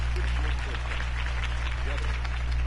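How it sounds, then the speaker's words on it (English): Steady crowd applause fills the whole stretch, a dense wash of clapping over a low constant hum, with faint voices mixed in. "could have heard that applause"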